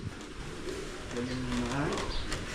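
Soft pigeon coos, a few low warbling calls in the middle, under a steady background of talk and ambient noise.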